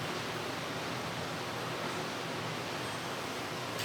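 Running water from a tap splashes steadily as a glycerin skin treatment is rinsed off the face, a continuous close hiss with no talking.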